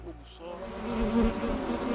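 A swarm of bees hums steadily at a hive, a dense, close, continuous buzzing that swells slightly and holds without pause.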